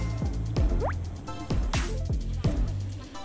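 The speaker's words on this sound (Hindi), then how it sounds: "भैया ने यहाँ पे ऑयल में पानी डाला है, जिससे ऑयल की जो स्मेल है वो ख़त्म हो जाएगी" Water hits hot mustard oil in a cooking pan, giving sharp crackling splutters and pops at irregular intervals, close and fairly loud, with no voices.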